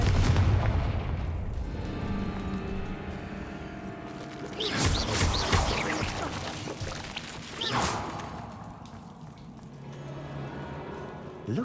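Confringo blasting spells cast in a Harry Potter video game, with two bursts of explosive crackle around the middle over a steady rumbling game ambience, the first longer and louder.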